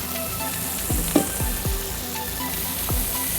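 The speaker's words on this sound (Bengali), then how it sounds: "এখন এটার সঙ্গে মিক্স করে দিয়ে আরও কিছুক্ষণ ভাজবো।" Beef with capsicum frying in a pan, a steady close sizzle with a few sharp stirring scrapes and clanks of a utensil against the pan.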